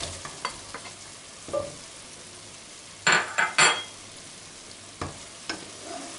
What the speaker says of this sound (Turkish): şimdi daha önce kızartmış olduğumuz patatesleri veriyoruz